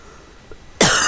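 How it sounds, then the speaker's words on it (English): A single loud, close cough from a man breaks in sharply after a stretch of near silence, ending the moment. "Still working over that cough."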